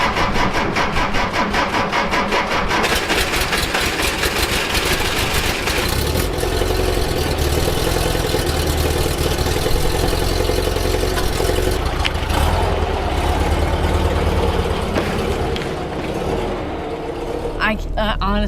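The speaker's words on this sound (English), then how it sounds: "Cold start, Porsche 356." A Porsche 356 engine cold-starts and settles into a rough, steady idle, heard up close and sustained. Some people talk over the engine noise.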